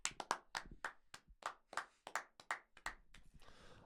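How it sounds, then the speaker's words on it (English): A few people clap by hand in a small room, a dozen or so sharp, uneven claps close up that thin out into scattered last taps. "Boys, let's get a round of applause here just for some upgrades here"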